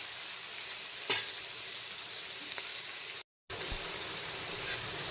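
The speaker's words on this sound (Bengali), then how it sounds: "এখন প্রথমে পেঁয়াজ কুচিটাকে হালকা বাদামি কালার করে ভেজে নেব" Chopped onions fry with sugar in a pan as a steady, close broadband sizzle, with a couple of faint stirring scrapes and a brief moment of silence partway through.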